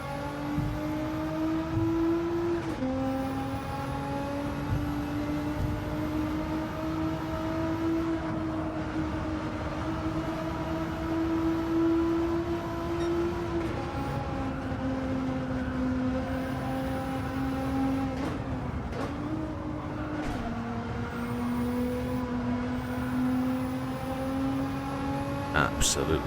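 A Nissan GT-R race car in Gran Turismo 7 drives at Tokyo, its engine droning in a steady high tone that climbs and drops between gear changes over a long stretch.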